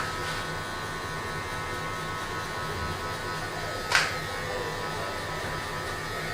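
Electric hair clippers buzz steadily and close while cutting a drop fade, a constant electric hum with one brief brushing click partway through and no talking.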